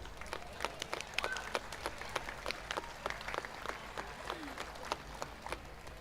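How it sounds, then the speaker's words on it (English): An audience at an outdoor Carols by Candlelight event applauds, a thin scattered patter of claps heard from a distance over a low steady hum. "Please now join me in giving them a round of applause."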